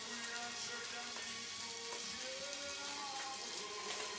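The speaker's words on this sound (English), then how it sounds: "now we make a little color both sides of the sausage" Hot chicken sausage browns in a pan on the stove, giving a steady, even sizzle and hiss throughout at a moderate level.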